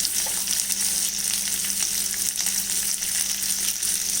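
Onions sauté in a pan with salt for poha upma, giving a loud, continuous close-up sizzle with faint stirring scrapes throughout.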